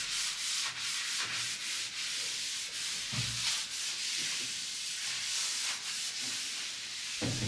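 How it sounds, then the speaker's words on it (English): Skis being waxed by hand, a steady broadband rubbing and scraping in repeated strokes with brief low thumps, close and continuous with no talking. "Just need to wax this again now."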